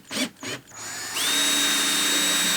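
Power drill driving screws into the wooden fascia of porch stairs, with two short whirring bursts followed by one long steady whine as a screw is driven home, loud and close.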